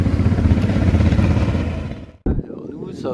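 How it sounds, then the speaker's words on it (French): Motorcycles pass on a winding mountain pass road in the Hautes-Alpes, a loud close engine roar that fades away, then a short burst of a second machine. "Nos amis les motards."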